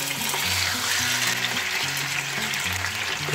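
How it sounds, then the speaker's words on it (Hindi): Chicken pieces going into hot oil in a pan for chicken nihari, a steady loud sizzle and crackle of frying with some stirring, no talking. "ऑयल हमारा गर्म हो चुका है, तो इसके अंदर हम लोग चिकन शामिल कर देंगे"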